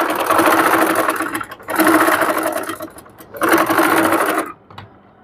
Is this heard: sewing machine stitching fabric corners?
yes